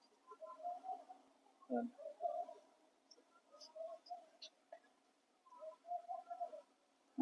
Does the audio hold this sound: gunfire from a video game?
no